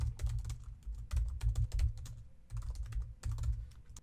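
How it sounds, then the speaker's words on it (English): Code being typed on a computer keyboard, a steady patter of soft key clicks in uneven bursts with short pauses, close by and fairly quiet, with no talk. "Then I'm just going to start typing a function."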